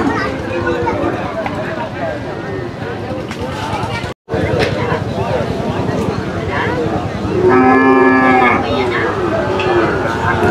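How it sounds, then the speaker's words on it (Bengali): Cattle low repeatedly at a busy Shahapur cattle market in Dumuria, where small local cows are traded, with one loud, drawn-out moo standing out near the end over steady crowd chatter and people talking. "এই গরুগুলো অনেক ছোট সাইজের গরু, একেবারে ছোট।"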